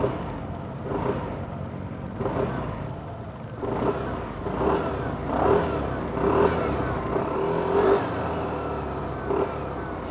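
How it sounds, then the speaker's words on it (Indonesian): An Aprilia SR-GT 200 scooter engine starts and runs close by, a steady idle hum with repeated throttle blips swelling and fading over about ten seconds, with no talk. "Dan kalian dengerin nih suara mesinnya."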